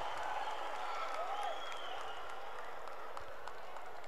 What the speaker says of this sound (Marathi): टाळ्या या वाजत राहायला पाहिजेत. क्या बात आहे, जोरदार टाळ्या.